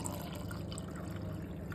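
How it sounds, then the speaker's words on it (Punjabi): A cup of water is poured into a frying pan in a home kitchen, making a steady, close, gentle trickle and splash that runs evenly without pauses. "ਇੱਕ ਕੱਪ ਪਾਣੀ ਪਾ ਲਿਆ ਆਪਣੇ ਫਰਾਈ ਪੈਨ 'ਚ"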